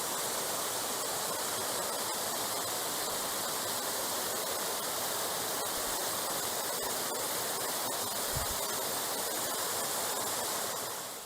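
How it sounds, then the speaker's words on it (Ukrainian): The roughly four-metre Shumylo waterfall in the forest pours with a constant broadband roar, even and unbroken from start to finish, fairly soft overall and without any voices. "Водоспад Шумило. Висотою близько 4 метрів."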